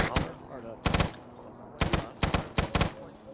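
Bursts of gunfire shooting out windows during a team game, in quick clusters of sharp bangs with short gaps between, fairly close, as voices talk around the shots.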